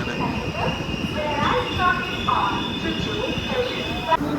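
An Intercity Express train sits at Thrissur station, its engine and carriages giving a steady low rumble with a faint high whine, under close, continuous talk and station bustle.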